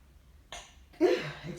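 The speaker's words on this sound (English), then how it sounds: "I got to sneeze." A person sneezes indoors in a large, empty room, giving a brief sharp inhale and then a loud, explosive burst that fades out after about half a second.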